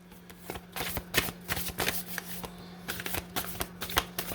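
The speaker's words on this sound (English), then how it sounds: "All these cards fell, but I'm going to keep shuffling." Oracle cards shuffled by hand make rapid, crisp riffling bursts in quick succession, close and fairly quiet, with a steady faint hum underneath.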